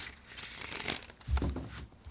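Soft papery crinkling and rustling of tarot cards being shuffled, with a slightly louder riffle near the end, close up and without talking.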